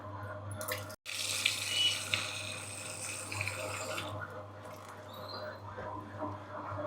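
Running water pours steadily into a vessel while ragi (finger millet) rava is swished and rinsed through it, fairly quiet with a brief break near the start.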